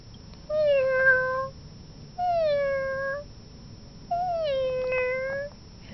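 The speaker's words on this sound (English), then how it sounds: "What does a kitty cat say?" A cat meows three times in a row, each call drawn out and falling slightly in pitch, close and clear with short pauses between, over a faint low background hum.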